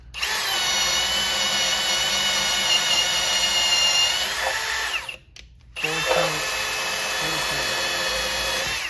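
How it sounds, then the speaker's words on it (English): A Milwaukee cordless drill on speed 2, drill mode, whines steadily at high speed while boring with a self-feeding spade bit, pauses briefly near the middle, then spins back up and keeps cutting. "first with the self-feeding spade bit. It's speed 2, drill mode."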